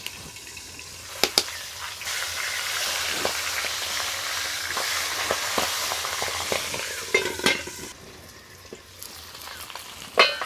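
Fish heads fry in hot oil under a lid, giving a steady muffled sizzle with louder pops and clatters of the lid and utensils at intervals, with no talk.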